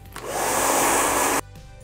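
Close and loud, a hair dryer blows steady air while drying short hair for just over a second before cutting off abruptly, with a brief soft start and quiet after.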